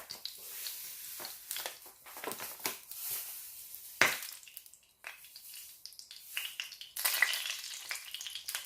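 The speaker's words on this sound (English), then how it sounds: "we're just going to stir this very gently" Sugar is stirred gently into melted ghee in a pan, giving soft scraping and crackly stirring sounds in irregular bursts with quiet gaps and no talking.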